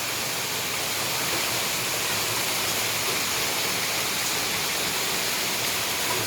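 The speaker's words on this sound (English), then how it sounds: "the gullies here just absolutely overflowing" Heavy rainwater pours and overflows from street gullies during Japan's rainy season, a dense, steady, loud rushing roar with no letup and no voices.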